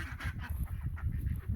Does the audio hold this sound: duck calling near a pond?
yes